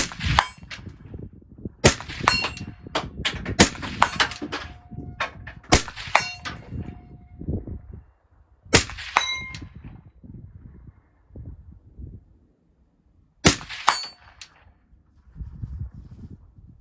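Rifle shots aimed with a laser ring off a steel target at 100 yards, each sharp report followed by a bright metallic clang, fired in quick clusters with pauses between, loud and close.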